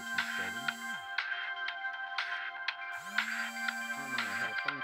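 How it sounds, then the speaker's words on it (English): A cell phone rings with a melodic electronic ringtone, a looping musical phrase repeating clearly and fairly loud for several seconds with no talking over it. "I had a phone call."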